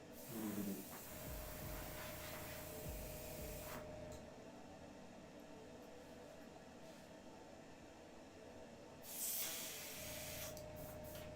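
Compressor-driven airbrush spraying paint onto a wet painted surface, a steady close hiss that holds throughout and swells louder near the start and again toward the end.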